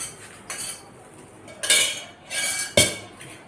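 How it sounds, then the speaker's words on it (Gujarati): Raw peanuts tipped into hot salt in a pan for homemade salted groundnuts, giving a few bright clattering, rattling bursts of nuts and metal at close range, with quieter gaps between; no talking. "મીઠું ગરમ થઈ ગયું છે, એમાં નાખીશું સિંગ."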